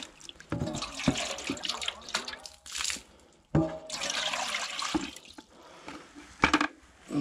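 Water splashes and gushes in bursts, poured and swirled to rinse a dog's water container, with short pauses and clatter between pours, close by.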